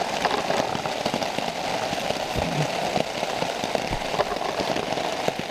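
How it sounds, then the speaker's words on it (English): Heavy rain pours down steadily outside a hammock at a wilderness campsite, a dense, close patter on the fabric and surroundings with scattered louder drops, continuous and unbroken with no talk. "the rain really picked up"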